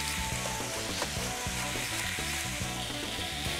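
Chicken pieces sizzle and fry as they brown in a hot pan, giving a continuous bright hiss with some stirring. Music plays over it.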